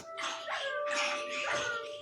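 A Minecraft dog or tamed wolf gives a run of high yips and whimpering barks, three close bursts in quick succession with a faint tonal game background underneath.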